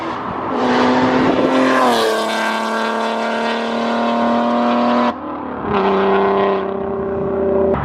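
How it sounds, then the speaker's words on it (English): A supercharged 3.7 V6 Mustang engine with an M122 supercharger revs hard and holds a high, aggressive drone, drops off briefly, then revs up again, loud and close with no talking. "Definitely when the car is in boost, the car sounds a lot more aggressive."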